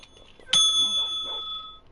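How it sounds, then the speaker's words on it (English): A bright notification bell dings once, loud and close, its ringing tone sustaining and slowly fading over about a second with faint background murmur. "don't forget to turn on notifications by smacking the bell"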